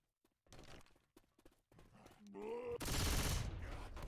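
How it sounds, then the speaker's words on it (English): Shotgun fire in a competitive video game match on the Parish map, a few scattered shots followed by a loud, sustained burst of blasts. "Shotgun."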